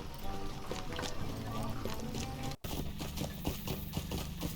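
A horse is ridden through a video game landscape toward the stable at Buckland in the rain, its hooves clip-clopping in a steady rhythm under a continuous bed of game ambience, with a brief dropout midway.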